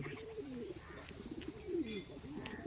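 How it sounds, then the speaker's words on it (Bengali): Pigeons coo softly in repeated low, rolling calls as they are fed after being released to fly, a little distant, with faint chirps and ambient noise around them. "এখন পায়রাগুলো মোটামুটি ছাড়া হলো এখন খাবার দাবার হচ্ছে দেখুন এই যে পায়রাগুলো আছে"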